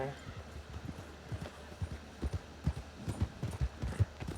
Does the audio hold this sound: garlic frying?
no